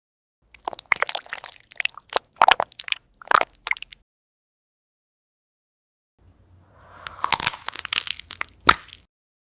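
Someone eats fruit and Korean food up close, with bursts of crisp crunching and wet bites, a silent pause in the middle, then more crunching.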